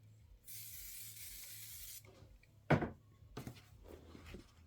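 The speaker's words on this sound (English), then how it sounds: "Give this a shot of spray." A short burst of aerosol spray onto quilting fabric hisses for about a second and a half, followed by a soft thunk and light handling sounds, close and quiet.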